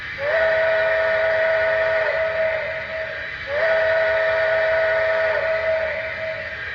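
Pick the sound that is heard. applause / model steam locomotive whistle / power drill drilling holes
model steam locomotive whistle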